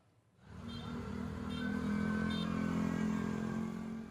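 A motorcycle carrying a mobile book library through a village rides up and passes, its engine swelling in from quiet to a steady mid-pitched hum that stays fairly close, with no voices.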